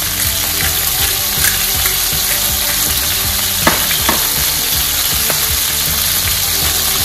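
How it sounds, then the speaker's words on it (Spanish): Chicken fries loudly in a pan for Valencian paella, a dense, constant sizzle close up with occasional stirring scrapes and taps, no speech. "Sofriendo el pollo"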